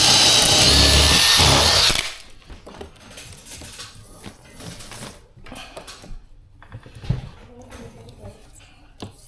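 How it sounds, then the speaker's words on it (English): A loud power drill whirs for about two seconds during home automation pre-wiring, then stops, followed by quieter clattering and handling noises of tools and wood. "Can I have the drill do you have?"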